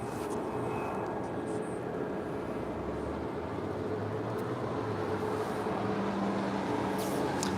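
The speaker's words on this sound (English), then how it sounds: "American Airlines Flight 2459 heading to Dallas, Fort Worth, Texas, an A321neo making her way down for a departure here." An American Airlines A321neo taxis for departure at LAX, its jet engines giving a steady, broad roar at moderate distance with constant airport background noise throughout.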